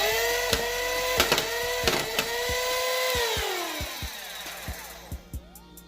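A custom cut-down Nerf Halo blaster whirs loudly as its motors spin up and slowly wind down, with a quick series of sharp clicks and thumps as darts fire, close and alone.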